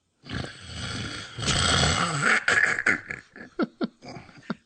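Someone snoring loudly, with a long rough rasping breath followed by a string of short, sharp snorts that grow spaced out toward the end, heard close and alone.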